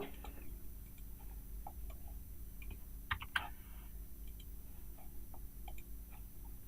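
Soft computer keyboard taps and clicks come sparsely in a quiet room, with a quick cluster of keystrokes midway, like pasting with Ctrl+V and pressing Enter.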